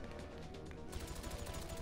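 Dense rapid gunfire rattles continuously in Grand Theft Auto V during a heist, loud and close, with bursts overlapping throughout.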